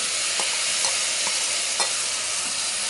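Tomatoes go into a hot pan for a pizza sauce, giving a steady, even sizzle with a few soft clicks of stirring, close and without speech.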